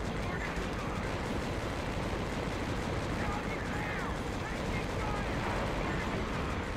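Dense, continuous gunfire and explosions in the war game Conflict: Desert Storm 2, a loud unbroken battle roar with a voice calling out over it.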